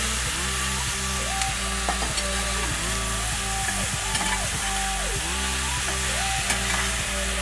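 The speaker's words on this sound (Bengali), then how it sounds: "এবার দিয়ে দিচ্ছি সিদ্ধ করা সব সবজি।" Boiled mixed vegetables tipped into a hot frying pan give a steady, close sizzle with scraping stir strokes and faint clinks throughout, no voices.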